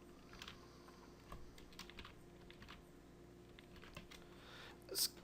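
Text being typed on a computer keyboard during a Scrivener writing session, a faint, irregular run of soft key clicks over a steady low hum, with a slightly louder burst of taps near the end.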